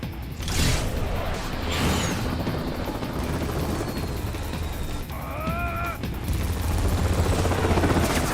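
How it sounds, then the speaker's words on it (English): A helicopter in the video game Metal Gear Rising: Revengeance thrums steadily throughout, with booming impacts and mechanical game effects layered over its continuous rotor drone. "All right, bring the chopper around."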